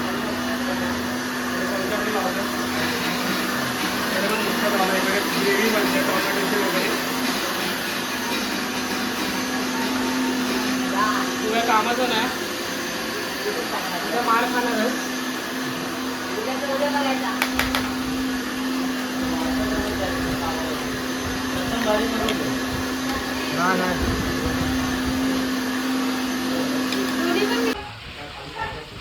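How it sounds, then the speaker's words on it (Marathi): A mixer grinder whirs loudly and steadily with a constant hum, running under ongoing speech, then cuts off abruptly near the end. "मला मिक्सरचा आवाज येतो इग्नोर करा"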